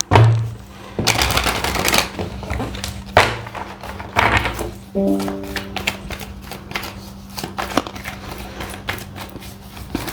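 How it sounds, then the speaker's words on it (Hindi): A deck of tarot cards is shuffled by hand at close range: repeated soft riffling and flicking bursts with card taps, over a low steady hum. "एक डेक में और शफल करके रखूंगी।"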